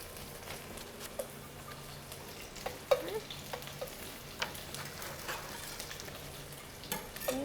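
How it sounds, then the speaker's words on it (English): Onions frying and tossed in a pan for kielbasa and kale potato soup, a quiet, even sizzle with scattered scrapes and knocks of a utensil as they are stirred around. "go ahead and get those onions a little bit brown"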